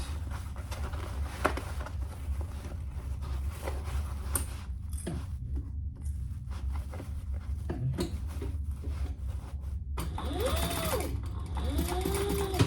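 A sewing machine stitches a small travel bag, a steady mechanical hum and rapid needle chatter that runs continuously, briefly eases, then speeds up with a rising whine toward the end.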